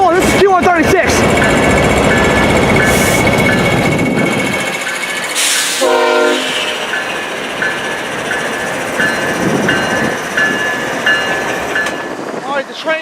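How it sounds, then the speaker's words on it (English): A diesel locomotive on train Q136 in Tidewater, Virginia idles close by with a steady low engine rumble, and a brief metallic screech rises midway. "the train just pulled forward a little bit. As you can see, he's just idling away right now"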